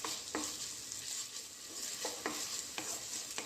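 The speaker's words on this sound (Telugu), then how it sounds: "ఉల్లిగడ్డల్లో అంతా మిక్స్ చేసే వరకు బాగా వేయించుకోవాలి." Onions fry in a pan with a soft, constant sizzle, and a spatula scrapes through them in a few short, separate stirs. Close and quiet, with no voices.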